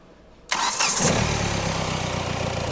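A Hyundai Elantra with a repaired ECU restarts: after a brief hush, the starter bites and the engine catches with a sharp rise, revs briefly, then settles into a steady, close, loud idle.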